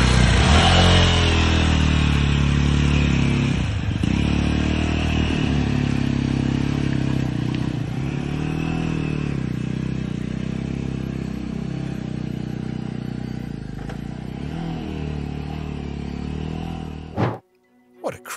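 Motorcycles ridden over a crazy, rough road, their mid-pitched engines droning and revving steadily and loudly close by, with clattering over bumps before the sound drops away abruptly near the end.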